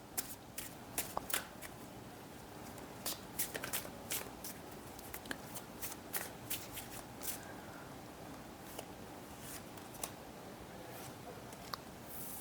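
Tarot cards are shuffled close by, a soft continuous riffling with scattered sharper card flicks and taps, fairly quiet with no talk.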